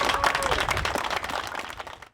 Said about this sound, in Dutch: Ik zou zeggen, een hartelijk applaus daarheen.